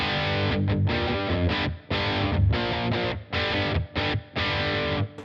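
Electric guitar played through a Blackstar St James EL34 amp in sag mode, a distorted, slightly compressed tone with strummed chords in short bursts and brief gaps, loud and close, no talking.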